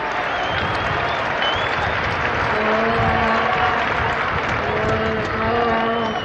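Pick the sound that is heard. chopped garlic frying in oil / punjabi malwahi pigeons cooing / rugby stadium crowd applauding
rugby stadium crowd applauding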